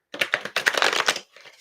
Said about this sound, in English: Shuffle the cards for you, darling.